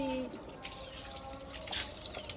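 Tap water runs steadily into a sink while utensils, including milk buckets and roti dishes, are washed by hand, with a few faint clinks and splashes close by and no talking.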